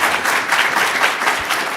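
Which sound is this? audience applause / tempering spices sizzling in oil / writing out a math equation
audience applause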